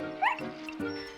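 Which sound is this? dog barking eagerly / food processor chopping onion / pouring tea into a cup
dog barking eagerly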